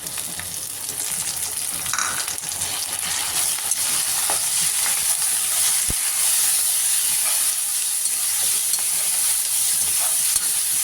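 Tomatoes and onions sauté in hot oil in a pan for paruppu urundai kulambu. The sizzle is a steady, even hiss throughout, with a single sharp click partway through and no voices.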